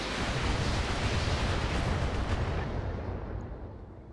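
A mech fires artillery in the BattleTech video game, making a loud, sustained roaring blast of noise that holds for about three seconds and then slowly trails off.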